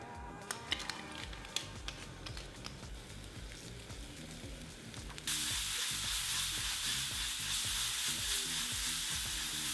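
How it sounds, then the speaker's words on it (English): Roughly chopped mushrooms hit a hot pan and begin to fry: a few sharp clicks and taps come first, then the sizzle jumps to a loud, steady hiss that holds to the end, with no voices. "So I'm going to set this aside while I cook up my mushrooms"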